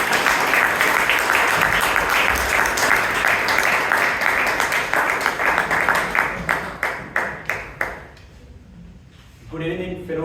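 A room full of people at a Toastmasters club meeting applauds steadily, the clapping thinning to a few scattered claps before it stops and someone starts speaking.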